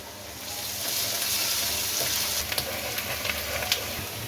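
Onion fries with garlic ginger paste in a pan as part of a mutton kaleji masala, a loud, steady sizzle that runs throughout with occasional stirring clicks and no talking.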